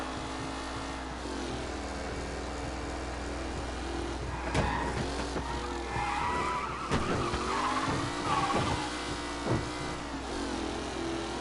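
Race cars skid and squeal in a close pack during a race in Mafia Definitive Edition, with steady engine drone and repeated sharp tire screeches through the middle stretch.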